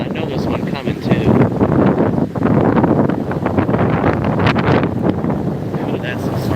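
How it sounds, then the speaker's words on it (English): Strong gusting wind during a severe December thunderstorm in Tampa Bay, roaring loudly and buffeting close to the microphone throughout, with voices heard over it. "Ooh, that's some strong wind."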